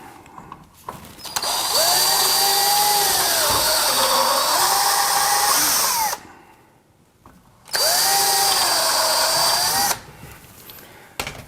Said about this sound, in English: drill down into the wood just a little bit